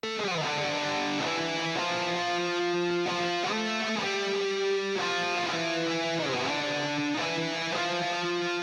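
A distorted electric guitar through a Marshall Silver Jubilee amp model with delay plays a sustained, shifting melodic line with thick overdriven tone and echoing repeats trailing each note, no voices.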